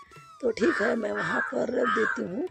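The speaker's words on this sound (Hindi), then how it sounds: "सुन रहे हैं कौवा की आवाज़ आ रही है" Crows caw repeatedly in an outdoor setting during a food offering, the harsh calls rising clearly and loudly over a woman's nearby speech throughout.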